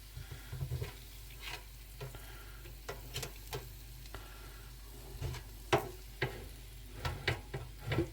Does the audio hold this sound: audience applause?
no